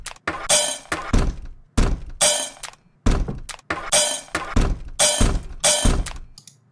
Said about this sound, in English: I think it's a pretty interesting kind of sliding sound